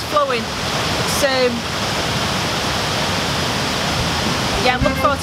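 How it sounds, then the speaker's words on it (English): Fast-flowing Drummoney Falls in County Fermanagh roars as a loud, steady rush of water, with a few brief bird chirps at the start and end. "you can hear that noise in the background? It's the sheer ferociousness of the water."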